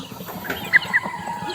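A white Kelso rooster with a green neck and bright yellow legs gives two short, sharp clucks close by, with no talking around them.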